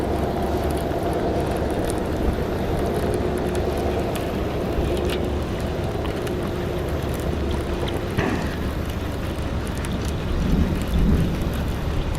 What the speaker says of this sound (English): There's no lightning. It's just thunder.